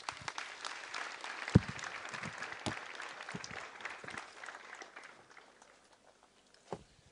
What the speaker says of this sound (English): Can we do a bigger round of applause